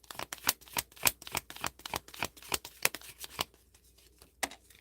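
Oracle cards shuffled by hand for a one-card reading, a close, rapid run of crisp riffling flutters and soft slaps that taper off near the end, with no talking.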